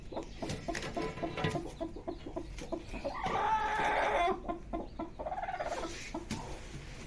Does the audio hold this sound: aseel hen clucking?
yes